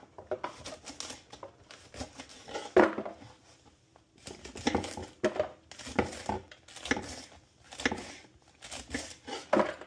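A knife cuts through rolled-up cabbage leaves on a board, giving repeated bursts of crisp chopping and crunching in uneven clusters, close and moderately loud, with brief pauses between runs.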